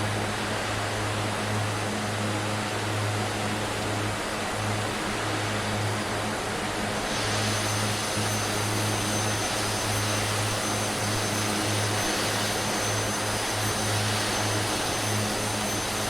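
Twin Otter floatplane in flight over Scotland in Microsoft Flight Simulator: a loud, steady propeller-engine drone fills the whole stretch, shifting slightly in tone partway through, with no voices.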